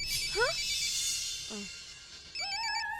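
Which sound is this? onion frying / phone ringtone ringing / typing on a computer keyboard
phone ringtone ringing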